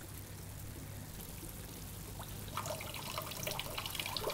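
Water flows into a garden pond as the bubble pump restarts, a low steady rush of pouring water that grows fuller and more splashy toward the end, with no voices.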